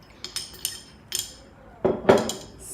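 Metal spoon stirring brown sugar into a pot of pho broth, giving a few sharp clinks and scrapes against the pot, scattered and then a louder cluster near the end.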